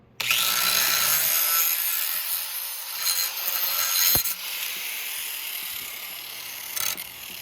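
Motorcycle exhaust metal being scrubbed clean before welding: a steady, close abrasive rasping that runs almost unbroken through the whole clip, with a few sharper scraping accents and no talking.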